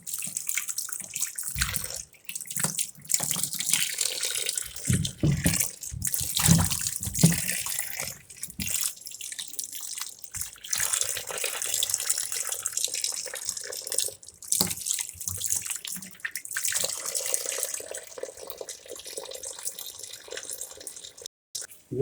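Tomatoes are washed under running tap water in a sink, with an uneven splashing gush that surges and breaks as hands move the fruit, plus occasional drips and handling noises.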